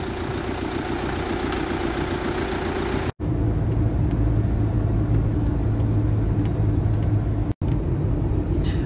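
A camper van rolling along the road after a roadside repair, a steady engine drone and road rumble heard from inside, loud and continuous, with two brief cuts.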